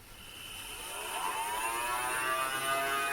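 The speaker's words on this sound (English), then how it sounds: "when I turn the motor on, you see the wheels turn, you can hear the change in pitch of the motor" Small electric motor of a model aeroplane launcher spinning its wheels, a steady rising whir whose pitch climbs gradually, fairly faint and close with no talking.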